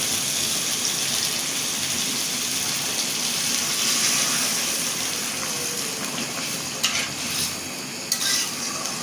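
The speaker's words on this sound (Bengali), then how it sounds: "এখন ঝোলের পানি দিয়ে দেবো" Hot water poured into a hilsa fish curry with green plantain, a loud steady rush and sizzle as it hits the hot pan, with a few clinks of utensils near the end.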